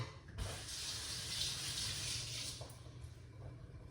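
Water runs from a tap into a sink and drains away in a steady, fairly faint hiss that starts abruptly and flows continuously without talk.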